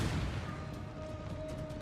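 Artillery firing canister shot in the game Empire Total War, heard as a dense, sustained rumble of battlefield fire, with a steady tone running through it and no talk.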